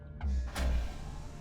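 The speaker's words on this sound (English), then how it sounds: "Alright, that's the sound of power coming back." A soft electronic whoosh and hum rises as power comes back on in the Subnautica video game, brief and fairly quiet with no voices.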